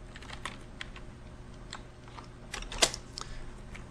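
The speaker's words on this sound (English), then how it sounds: "we're going to take the text tool, and we're going to type," Computer keyboard typing, a handful of soft, scattered keystrokes with one sharper tap, close and quiet, with no talking.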